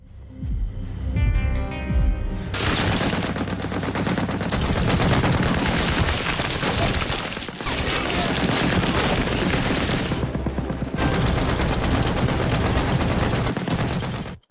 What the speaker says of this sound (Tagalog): Nakuha niya ang isang turret gun at pinagbabaril ang grupo ng mga Nazi at pinatay ang marami sa kanila.